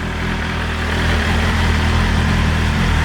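A 2023 BMW M 1000 RR superbike idles in race mode, a steady, close, even engine drone with a rumbling low end and no voices over it.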